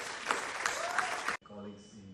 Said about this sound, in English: Let us give a round of applause for all these students